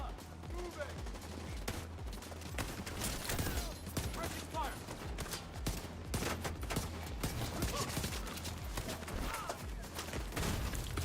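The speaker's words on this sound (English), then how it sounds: "that turret is shooting me from way the fuck out there" Turret gunfire in The Division 2 fires from a distance in dense, overlapping bursts, mixed with other weapon fire and game noise, while a player talks quietly over it at a low overall level.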